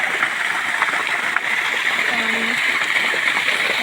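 Water runs through a farm irrigation channel beside a cotton field, a continuous close gurgling and splashing flow, with someone talking faintly over it.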